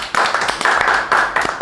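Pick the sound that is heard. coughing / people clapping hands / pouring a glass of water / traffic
people clapping hands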